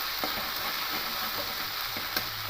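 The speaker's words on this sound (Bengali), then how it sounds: "দিয়ে ভালো করে একটু মিশিয়ে নেব তেলের সাথে" Ginger frying in oil for mung dal, stirred in the pan: a steady, moderate sizzle with a few soft spoon scrapes and taps, no voices.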